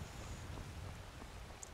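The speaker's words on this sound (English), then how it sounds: "Oh, it's raining." Rain falling in the video game Skyrim, a soft, steady patter with faint wind, fairly quiet and continuous, with no talking.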